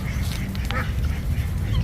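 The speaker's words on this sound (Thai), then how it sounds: "เป็ดลอยน้ำ" A duck floating on water at a cafe in Samut Prakan, Thailand, gives a few short, faint quacks over a loud, low background rumble.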